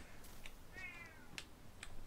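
A house cat gives a single faint, drawn-out meow partway through, over low background noise with soft clicks, and no talk.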